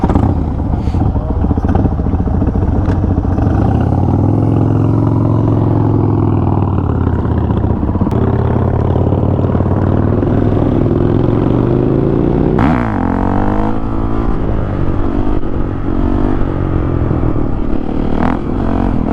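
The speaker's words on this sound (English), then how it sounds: "This is his 2000 Road Glide that he's put a bunch of work into." A 2000 Harley-Davidson Road Glide bagger's engine runs steadily and close by at a loud idle with a few light revs, continuous throughout, with faint voices underneath.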